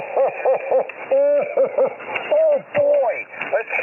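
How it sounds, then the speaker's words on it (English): A voice comes over HF ham radio during a contact on a Santa net, narrowband and slightly distorted with static, speech broken into short transmitted bursts. "So the contacts that are made with Santa sound something like this"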